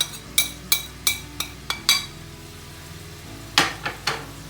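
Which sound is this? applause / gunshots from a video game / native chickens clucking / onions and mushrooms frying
onions and mushrooms frying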